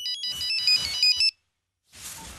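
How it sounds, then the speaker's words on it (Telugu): A phone ringtone plays a bright electronic melody in short repeating bursts, then cuts off into silence before faint noise returns. "రింగ్ అవుతుంది"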